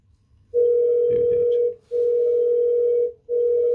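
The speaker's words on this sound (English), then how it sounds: "Sorry, my phone is just ringing." Phone ringing in a steady pulsing pattern of long, loud, even tones separated by short gaps, close to the microphone, with faint background noise under the first tone.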